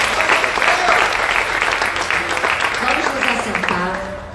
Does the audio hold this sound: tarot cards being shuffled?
no